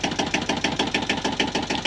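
A Yanmar 1GM10 marine diesel idles just after starting, giving a steady, loud, rapid knocking chug that holds an even rhythm throughout.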